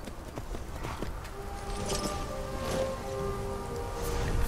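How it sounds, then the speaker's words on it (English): Steady rain hisses and patters across an outdoor scene in the video game Skyrim, with scattered clopping footfalls mixed in under the constant wash. "This rain just came out of nowhere."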